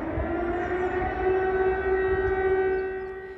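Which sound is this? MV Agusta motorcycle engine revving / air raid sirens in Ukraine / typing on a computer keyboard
air raid sirens in Ukraine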